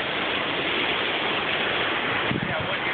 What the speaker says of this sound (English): This is the trail that you have to walk to get down to these waterfalls.